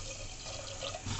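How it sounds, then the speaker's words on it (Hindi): Water pouring steadily into a cooking pot of lentils with turmeric, a continuous close splashing wash lasting about a second, with no voices. "ये डाला पानी"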